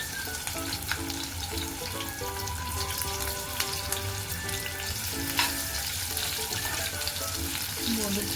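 Bombay duck fish fillets fry in a pan, with a loud, steady sizzle and crackle of oil up close. A tonal hum and bits of background music run underneath, and nobody speaks.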